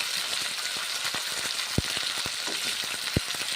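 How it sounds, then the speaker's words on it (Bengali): Mourola fish frying in a pan give off a steady, close sizzle of hot oil, with a few sharp clicks and knocks scattered through it and no talk. "ভেজে নিচ্ছি আমি মোরলা মাছগুলো"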